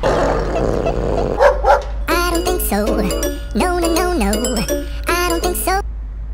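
Several dogs bark and yip in quick, overlapping bursts, fairly close and loud, with a faint jingling and a low steady hum underneath.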